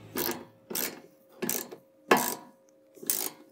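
A socket and ratchet tighten bolts on a Can-Am Commander expedition rack, giving five evenly spaced bursts of clicking strokes, close and crisp with short silences between them.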